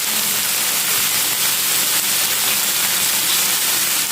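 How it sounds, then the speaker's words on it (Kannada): Chicken masala frying in oil, a steady loud hissing sizzle that stays constant throughout with no voices. "ಇನ್ನೊಂದು ಸಲ ಫ್ರೈ ಮಾಡ್ತಿದ್ದೇನೆ"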